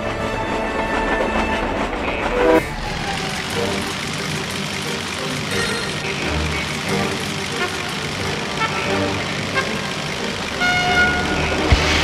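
A video game train from Disney's Planes on PC rumbles and hums steadily, with tonal whistle-like toots near the start and end, continuous mechanical engine drone throughout.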